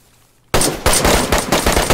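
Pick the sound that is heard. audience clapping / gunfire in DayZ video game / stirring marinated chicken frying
gunfire in DayZ video game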